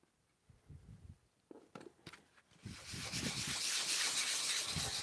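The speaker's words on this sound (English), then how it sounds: "Sanding until you're happy with it." Sandpaper rubs across a wooden Star Wars Death Star phone and tablet stand in a wood shop, starting after a few soft knocks and settling into a steady, close, rasping hiss.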